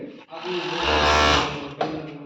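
A garment overlock sewing machine stitching fabric and trimming the thread, a close, loud motor whir that swells and then eases, ending with a brief mechanical clunk.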